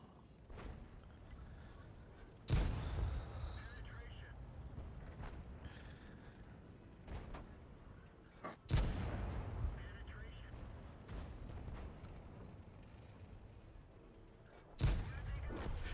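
Three booming tank cannon shots in the video game World of Tanks, spaced several seconds apart, each a loud sharp blast trailing into a rumbling decay over steady engine drone, with someone talking throughout.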